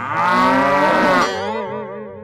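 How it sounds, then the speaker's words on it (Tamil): A buffalo that has fallen into a pit lets out one loud, close, drawn-out moo, strong at first and then wavering as it trails off, with no talking over it. "எரும மாடு குழியில விழுந்துச்சுடா."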